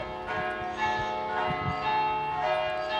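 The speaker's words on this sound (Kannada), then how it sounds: "ಗಂಟೆಯ ನಿನಾದ" A church bell rings at St. Publius Church in Malta, its tones sustained and overlapping into a steady, resonant wash, with a few struck hits standing out as it carries on throughout.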